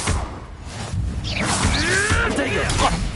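A Confringo spell cast in the Hogwarts Legacy video game: bright whooshing, sweeping magical tones rise and swirl over a steady bed of game noise, loud and close, with a voice faintly in the mix.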